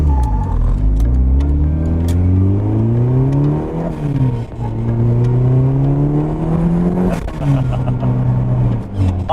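A 500hp turbocharged Mugen 1989 Honda CRX pulls away, its engine rising through several gears with rev drops between shifts, loud and close from inside the car.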